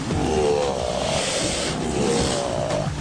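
A big bull alligator roars in a bayou, a deep rumbling bellow that surges in long waves over a few seconds, loud and fairly near, with no talking over it.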